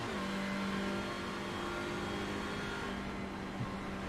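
A front-wheel-drive race car in a racing video game at Phillip Island drones steadily at high revs, its engine note easing slightly as the throttle lifts, loud and continuous without speech.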